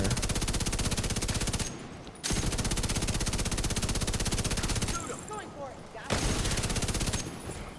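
Automatic weapon fire in The Division 2, long rapid bursts of loud, evenly spaced gunshots broken by two short pauses, with faint casing tinkles in one gap.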